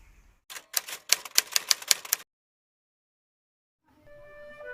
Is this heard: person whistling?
no